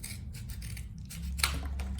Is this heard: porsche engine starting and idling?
no